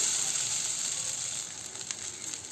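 Poha (flattened rice) frying in a pan with onion and chili, a bright continuous sizzle that is loud at first and eases slightly, heard alone without talk.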